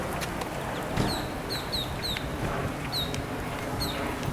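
Ducklings chirp in short high peeps repeatedly over a steady outdoor background at Sawgrass Mills in Sunrise, Florida.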